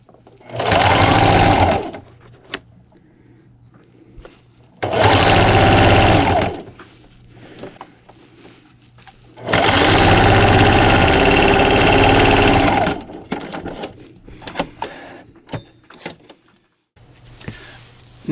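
A sewing machine stitches a jumbo hot pad in three loud, steady runs of about two, two and three seconds, separated by quiet pauses with small clicks and handling sounds.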